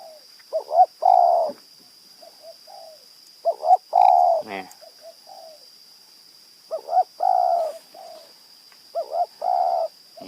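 A decoy dove coos in short repeated phrases, pausing between bursts, fairly close with a faint steady high hiss behind.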